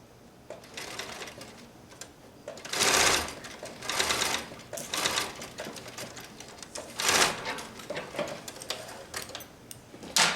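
A sewing machine stitches quilt seams in several bursts of fast, rattling needle runs, with short pauses between them, close up and loud, with no one talking.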